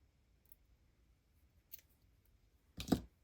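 Scissors snip through paper while a fall scrapbook layout is assembled: a few faint isolated snips early on, then one louder, closer crunching cut near the end, with no talking.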